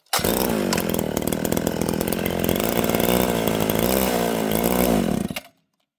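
A stock chainsaw fitted with two-stage performance reeds roars loud and close at a steady pitch for about five seconds, then cuts off abruptly.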